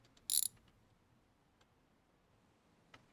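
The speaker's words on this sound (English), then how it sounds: "Alright, let's grab our wrench. I'm gonna quickly undo this brake line here as well." A wrench loosens a car brake line in a garage with one short metallic ratcheting burst near the start, then quiet with a couple of faint ticks.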